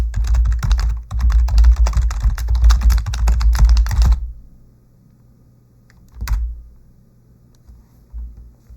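Rapid, dense keystrokes on a computer keyboard clatter up close for about four seconds, then give way to near silence broken by one brief click and faint taps.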